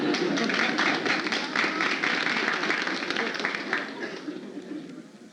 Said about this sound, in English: I hear a lot of people applauding